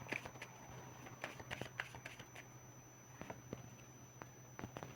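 Tarot cards are shuffled in quiet, soft bursts of papery riffling and light taps, several short flurries spread across a few seconds, close and faint with no talk.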